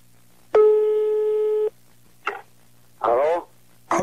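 A telephone ringing tone on a prank call sounds as one long steady electronic tone, then stops before a voice starts talking in short bursts.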